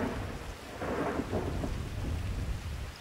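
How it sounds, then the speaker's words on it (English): Rain keeps falling in the video game Grand Theft Auto 5 as a roll of thunder builds in the middle and fades, the downpour hissing steadily around it with nobody talking. "why is it raining?"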